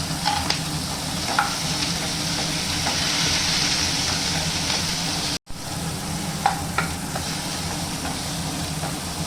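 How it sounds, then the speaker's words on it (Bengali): Onion, ginger, garlic, green chilli and tomato fry in oil in a kadai for a paneer masala, a steady close sizzle broken by light stirring clicks, with a brief dropout midway and no talking. "এখন আমি টমেটো দিয়ে দেবো। এটাকেও আমি আরেকটু ভালো করে ভেজে নেব।"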